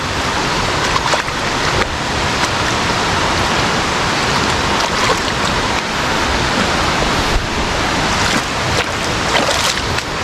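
Stream water pours in strands at Khlong Nam Lai waterfall beside a campground, a loud, continuous broadband rush with no pauses and no talk over it.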